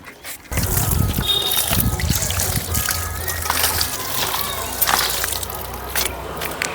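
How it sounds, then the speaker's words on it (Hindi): Water is poured lightly onto the soil of a freshly planted green chickpea pot, making a close, continuous splashing and trickling that runs for several seconds after a brief quiet start. "इस तरह से आप इसमें हल्का पानी डाल दीजिए"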